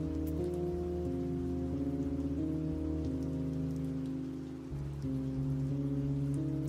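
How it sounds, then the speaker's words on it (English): Steady rain ambiance with a soft wash of falling drops, layered under sustained tonal music from the OneShot game soundtrack, continuous and even throughout with no talking. "We are listening to the one-shot soundtrack with rain ambiance."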